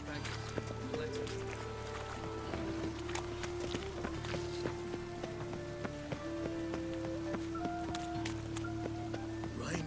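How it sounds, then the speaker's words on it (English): Steady video game rain in The Witcher 3 patters on surfaces in a dense, even hiss, with occasional sharper drips and faint tonal sounds beneath. "And it's raining again."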